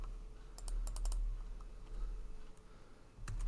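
Numbers being typed on a computer keyboard, a few quick clusters of sharp, close key clicks separated by short quiet gaps.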